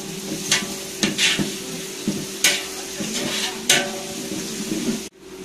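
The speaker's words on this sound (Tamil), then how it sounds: "இந்த இஞ்சி பூண்டு வாசனை நல்லா போகணும். அந்த அளவுக்கு வதக்கி விடணும்." Ginger garlic paste sautés in a big pot for a large batch of Naagurkani Raavuthar biryani, with a steady sizzle under repeated scraping strokes of a ladle.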